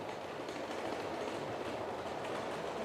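A model railway train rolls steadily along the track with a soft, continuous rattling rumble and faint clicking wheels, fairly quiet and without voices; no clear derailment crash stands out.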